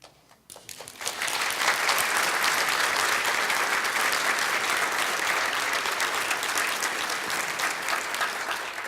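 Church congregation breaks into applause for long-serving staff administrators, rising after a quiet second into sustained, full-room clapping that holds steady to the end.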